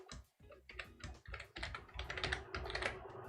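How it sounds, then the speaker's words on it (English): Someone types an IP address into a recorder setup screen on a computer keyboard, with quick, irregular clicking keystrokes, close and clear, and no speech. "just type it in the IP address of that recorder"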